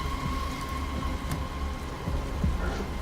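Rain and a thunderstorm in the video game Detroit: Become Human, a steady rain hiss with low thunder rumbling underneath and a few faint knocks, no talking.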